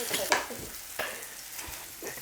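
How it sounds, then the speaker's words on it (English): A pot of water boils on the stove with a steady bubbling, sizzling hiss, close by, punctuated by a few brief clinks and scrapes. "the water, as you can see, is boiling"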